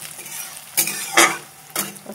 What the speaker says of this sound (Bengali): এই দেখো আমি সুন্দর করে ভালো করে সাদা তেলে ভেজে নেব